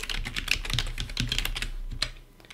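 Someone types an email address on a computer keyboard: rapid, uneven clicking keystrokes, close and clear, tapering off at the end.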